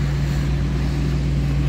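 A tractor drives through flood water in Isère, with a steady, loud, low engine drone and the rush of water running throughout, close by.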